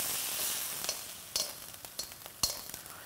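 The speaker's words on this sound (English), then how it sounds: "The final method I'm going to show you is stir frying" Hot oil sizzles steadily as red meat stir-fries in a wok, with a few sharp crackles and pops breaking through the hiss.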